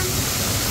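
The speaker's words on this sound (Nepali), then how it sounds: "अब उहाँ हाम्रो विमला दिदी पनि यहाँ झरनाको मजा लिन आउनु भएको छ" Rushing water from the twin waterfall at Chitlang in Chainpur, Sankhuwasabha, Nepal: a steady, dense broadband roar, close and even, filling the whole brief moment with no break.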